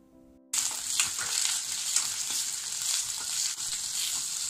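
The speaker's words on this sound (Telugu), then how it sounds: "కొద్దిగా కరివేపాకు కట్ చేసుకున్న ఉల్లిపాయ ముక్కల్ని కూడా వేసుకుని ఫ్రై చేసుకోవాలి" Curry leaves and chopped onions hit hot oil while making pepper chicken fry, bursting into a loud, close, steady sizzle right after a brief quiet moment, then crackling on without pause.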